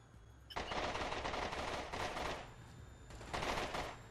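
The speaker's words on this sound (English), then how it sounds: "Nele blind firing over that wall, and Nele is going in hot." Automatic gunfire from players in the video game SCUM, someone blind firing over a wall: two dense bursts of rapid shots, a long one followed after a pause by a shorter one, loud and close with no talk.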